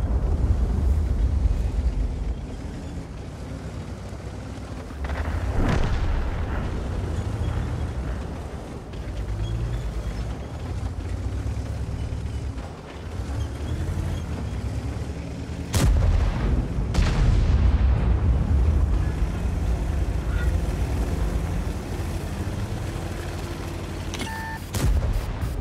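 A tank explodes in World of Tanks amid heavy, rumbling battle noise: sharp booming impacts around the middle and later cut through a dense, loud low roar that persists throughout.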